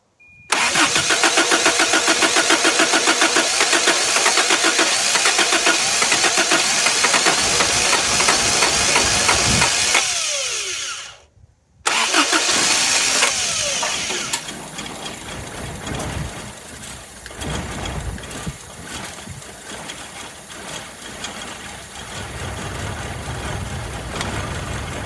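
A carbureted 1983 Toyota 22R engine, left unused for over 20 years, cranks and catches, roaring loud and steady at close range, cuts out briefly, then restarts and keeps running at a rough idle.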